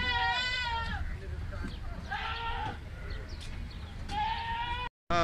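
Several sheep bleat loudly and close by at a livestock auction in Buraydah, wavering calls overlapping one another against a murmur of background noise.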